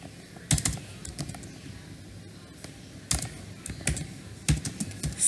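Typing on a computer keyboard while writing in Notepad, with irregular bursts of key clicks clustered around a few moments and quieter gaps between them, close and clear with no voices.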